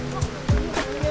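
Rushing water at Bolinao Falls forms a steady roar in the background, with people talking over it in this short stretch.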